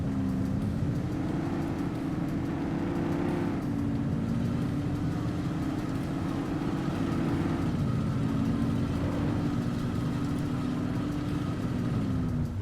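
A car engine in The Precinct video game holds a steady, droning hum while the damaged car drives along, pulling to the left. The engine pitch shifts slightly a few times, with no talking.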